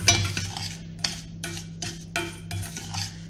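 A spoon stirs sugar with a little water over low heat in a pan, giving repeated scraping sweeps and light metallic clinks in an unhurried rhythm, with no voices.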